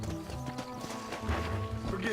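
Galloping horse hooves beat rapidly in Red Dead Redemption, soft and steady, running beneath a voice speaking over the game audio.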